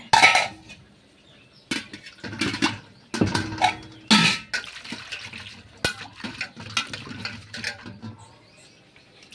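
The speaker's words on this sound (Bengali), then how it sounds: "থালটা একটু ধুয়ে নিতে হবে।" A plate is washed under running tap water in a home kitchen while rice and meat are being cooked, giving intermittent splashing and gushing bursts with brief clinks, close by and moderately loud.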